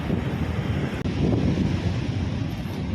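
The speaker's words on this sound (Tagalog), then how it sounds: "Mahangin." Steady, loud wind buffeting the microphone while riding along Roxas Boulevard in the afternoon, a continuous low roar with no pause, joined by a brief dropout near the one-second mark.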